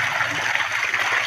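Flowing clean, cold stream water, a steady broad rushing hiss that stays constant and fairly loud throughout the short stretch, with no voices.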